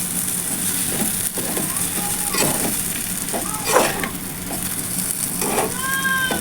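Potato pieces fry in a pan over a low flame and are stirred. A steady close sizzle runs throughout, broken by scraping stirs of a utensil against the pan.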